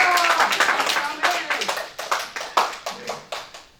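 A church congregation applauds for the pastor, with brisk clapping from many hands that thins into a few distinct, spaced claps toward the end, close and clear, with a voice speaking at the start.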